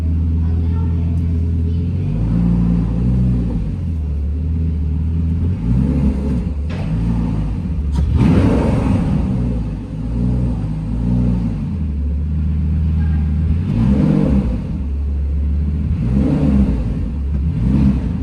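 Warmed-up Lamborghini Gallardo engine running in neutral, a loud, close, steady rumble with several rising and falling revs, with a voice now and then over it.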